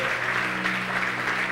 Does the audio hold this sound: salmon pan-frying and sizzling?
no